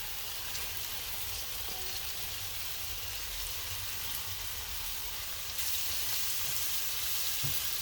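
Sliced bitter gourd (karela) frying in oil with onions for Bangladeshi karela bhaji gives a steady, soft sizzle and crackle throughout, growing a little brighter near the end, with no talking.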